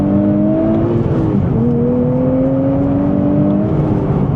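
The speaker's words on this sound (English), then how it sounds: "Let's do one more acceleration." A 2026 Nissan Z Performance with a twin-turbo V6 accelerates at full throttle, its loud, close engine note climbing steadily in pitch through the gears, with a brief dip at a shift partway through.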